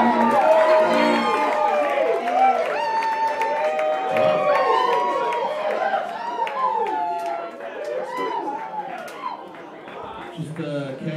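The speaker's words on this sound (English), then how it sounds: "clap for the movement right now." A concert crowd claps and cheers loudly, with scattered whoops and chatter, under a talking voice; the noise swells early and then gradually tapers off.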